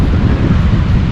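A cold, gusty wind on a UK beach at low tide roars against the microphone as a loud, constant low rumble for about a second, with no voices.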